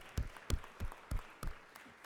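Georgia Senate chamber audience giving a brief, scattered applause for visitors, a few distinct claps at a slow uneven rhythm, fairly faint and reverberant.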